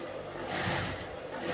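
Sewing machine stitching an invisible zipper, a brief steady close whir of fast stitching that swells slightly in the middle.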